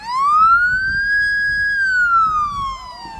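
An emergency vehicle siren at a truck and transport show sounds loud and close, a single rising and falling wail that holds its pitch through the middle before dropping away near the end.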